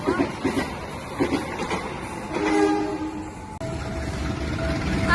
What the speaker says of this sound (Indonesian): Asli kereta api Malabarnya kenceng banget.